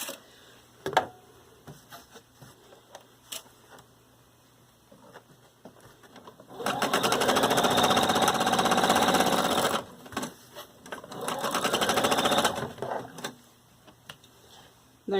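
Sewing machine stitching the side seams of a garment during assembly-line sewing, two sustained loud mechanical whirring runs of about three seconds each, separated by a short pause and preceded by quiet handling clicks.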